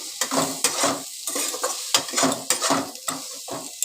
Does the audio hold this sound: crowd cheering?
no